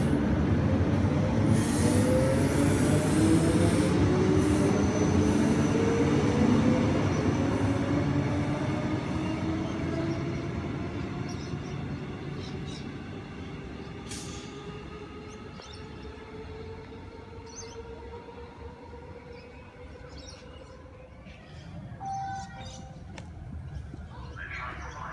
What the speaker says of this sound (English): So EMU 37 at the rear now departing from all stations to Shorncliffe.